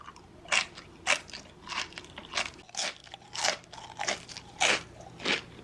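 Crunchy chips eaten together with baked tofu oatmeal, heard as about ten loud, crisp bites in an even rhythm, each followed by brief chewing. The sound is close, with no talking.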